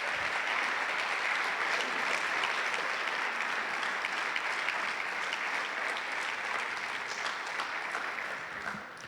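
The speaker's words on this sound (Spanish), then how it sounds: "Aplauda a Dios, por favor." A church congregation applauding during a Sunday service, a steady, dense roll of many hands clapping that holds for several seconds and tapers slightly at the end, heard alone without talk.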